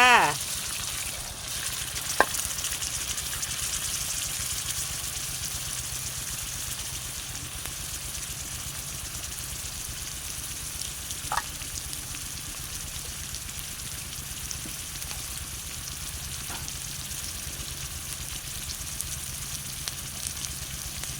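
Eel frying in a hot pan with chilli and garlic, a steady close crackling sizzle throughout, broken by a few sharp pops and light stirring clicks.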